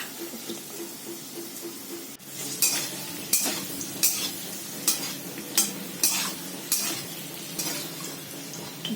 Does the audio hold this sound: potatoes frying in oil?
yes